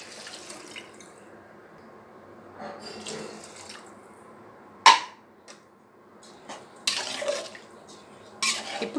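Water is poured from a container onto rice in a pot for egg biryani, giving soft splashing bursts with a sharp clack of the vessel midway and more gushes near the end, with no voices.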